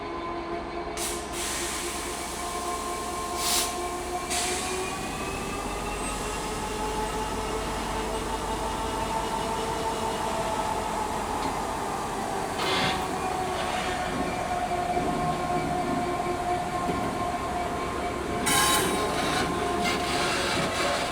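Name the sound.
Class 66 diesel locomotive hauling special freight train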